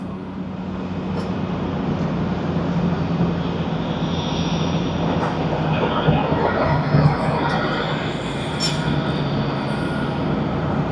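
An Asiana Airlines airliner arriving at Tokyo Haneda Airport, a steady broadband jet roar with a low hum, heard at a distance and held at an even level throughout.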